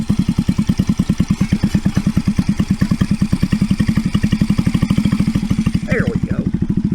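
An RPS Racer 140 engine fitted with a new stainless exhaust idles at about 1500 RPM, a steady, loud, rapid low thumping with a slight clatter, close by and alone throughout.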